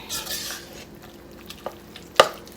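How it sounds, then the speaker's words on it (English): A buffalo chicken slider mixture is stirred in a bowl, making soft scraping and mixing noises with a few sharp utensil clinks toward the end, fairly quiet and close. "Now we are just gonna mix this in like so. Just mix it all in."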